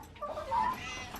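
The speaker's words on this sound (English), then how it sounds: "Can you pet your cat?" A cat meows outdoors on a homestead, a short mid-pitched call rising briefly over quiet background, close and moderately loud.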